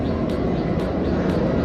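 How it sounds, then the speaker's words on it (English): An aeroplane flying overhead, a loud continuous low rumble that holds steady throughout the short stretch, with faint ticking sounds on top and no talk. "Sorry about the noise, it's an aeroplane."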